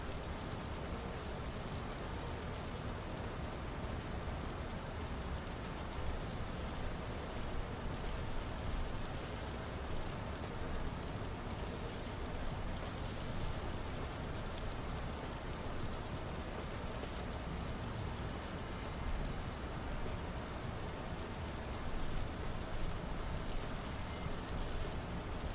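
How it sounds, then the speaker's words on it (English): Rain hitting the aircraft in Microsoft Flight Simulator, flying a PMDG 737: a steady, dense hiss of rain pattering on the airframe over continuous cockpit engine rumble, unchanging and even for the whole stretch. "A little bit of rain hitting the aircraft."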